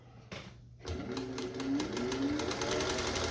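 A Singer 201 sewing machine stitching at steady speed, a fast even mechanical whir and rapid needle clatter, close and fairly quiet, starting after a brief pause.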